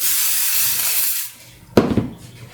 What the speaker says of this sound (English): lift it up, spray 505 spray